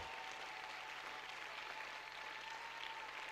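Sustained applause from a crowd at a large prayer gathering, a steady wash of clapping heard at a distance and fairly faint, continuing without pause.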